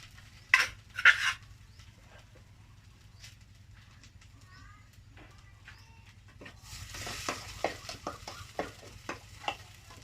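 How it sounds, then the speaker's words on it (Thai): Chili and lemongrass stir-fried in a pan for a spicy Thai-Lao field rat dish, faint sizzling with scattered scrapes and clinks of a utensil against the pan, growing busier toward the end, with a few birds chirping in the background. "พริกตะไคร้สามไปผัดให้หอมก่อนนะคะ"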